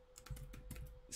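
Quick keystrokes on a computer keyboard, a brisk run of close, fairly quiet clicks with a steady faint hum behind them.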